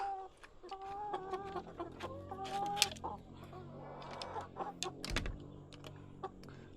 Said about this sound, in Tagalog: Gutom na ang aking mga alagang manok.